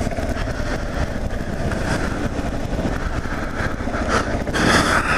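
A motorcycle on a chilly ride over hilly roads, its engine droning steadily and close with wind rush throughout, swelling louder near the end.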